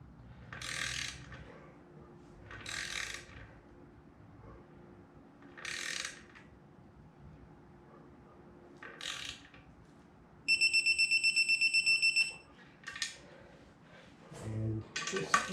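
Torque wrench tightening clutch bolts to 26 foot-pounds during a 7.0 L 427 LSX engine clutch install: quiet mechanical ratcheting strokes in spaced bursts, then a sharp rapid clicking run near the end, with faint handling noise between.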